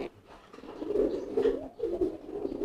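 A newly acquired racing pigeon coos softly and close by, giving a few low, throaty, rolling calls in a quiet setting with no voices.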